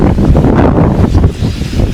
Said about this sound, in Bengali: বাপরে হাওয়া